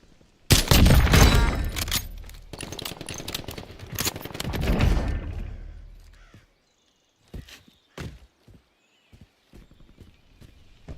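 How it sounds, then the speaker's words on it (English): Heavy gunfire in a shooter game comes in dense, loud bursts of rapid shots in two long volleys. Scattered sharper single cracks and quieter pops follow. "I got a lot of shooting going on this direction."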